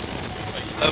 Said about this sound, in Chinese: 然后准备搭乘这个少爷列车